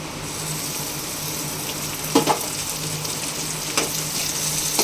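Tomato sautéing in oil with reddened onion, green chilli and garlic pieces for an egg masala, giving a steady moderate sizzle with a few brief stirring scrapes near the middle and end.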